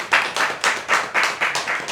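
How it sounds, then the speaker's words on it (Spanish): A small audience claps by hand in steady rhythmic bursts for about two seconds, close and moderately loud, at a reading workshop session. "los dejo con Roberto, para quien les pido un fuerte aplauso."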